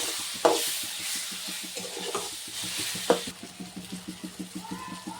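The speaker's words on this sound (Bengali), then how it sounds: "এখন আমি মশলাটা ভেজে নিচ্ছি" Turmeric, coriander and chilli powder with chopped tomato and green chilli frying in a pan, a loud sizzle under rapid rhythmic spatula scraping and stirring, with a few clanks of the utensil.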